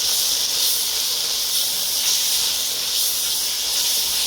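A stir-fry seasoned with black pepper sizzles in a pan as a steady, loud, close hiss that runs unbroken, with faint swells and no talking.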